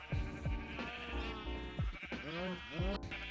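Sheep bleating in Minecraft, a string of nasal, wavering bleats in quick succession, several overlapping, played over a farm soundscape with a voice speaking between them.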